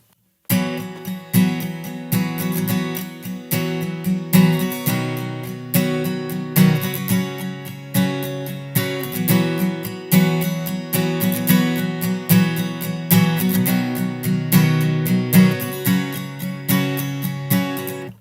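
Close, full acoustic guitar strumming the chorus chords of a song through a looping progression in an even, driving rhythm, uninterrupted by speech.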